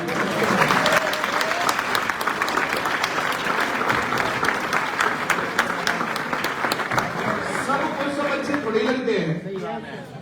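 Sustained clapping from a crowd of students at a coaching institute event, loud and continuous with a few sharp individual claps, tapering off near the end.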